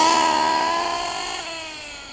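A Picco Boost .28 nitro engine revs at quarter throttle during break-in tuning, giving a loud, steady high-pitched whine that slowly fades, with no talking.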